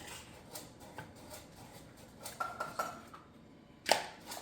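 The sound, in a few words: cracking eggs into a dish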